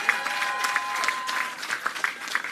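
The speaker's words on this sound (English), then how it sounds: "how about a big round of applause for the recording artists, the actors, the theater professionals" Crowd applause at a Hollywood Walk of Fame ceremony for Adam Levine, dense steady clapping from a large outdoor audience with a few sharper claps standing out, continuing without break.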